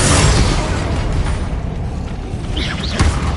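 A Confringo fire spell explodes in Hogwarts Legacy with a loud, booming blast that fills the moment, followed by a rumbling, crackling tail.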